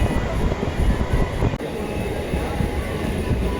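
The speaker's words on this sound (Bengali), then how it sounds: "এবার আমাদের ট্রেনকে ক্রস করছে দিনের প্রথম ব্যান্ডেল হাওড়া লোকাল 37211" A Bandel–Howrah local train, number 37211, rushes past on the adjacent track with a loud, continuous rumble that lasts the whole stretch and never fades.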